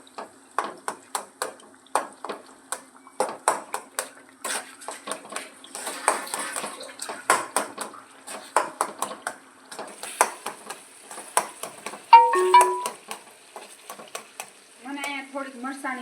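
A spoon scrapes and stirs repeatedly through brinjal paste frying in a pan with coriander-cumin powder, a light sizzle under rhythmic clanks against the metal, ending with a ringing ping.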